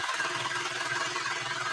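Accurascale Class 55 Deltic model locomotive with a worn mechanism, its sound-fitted engine giving a busy clattering, knocking drone at steady speed, close and continuous with no talk.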